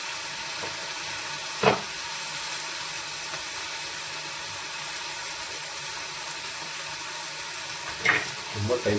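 Food fries in a pan with a steady, soft sizzling hiss and a couple of sharp utensil clicks standing out from the background.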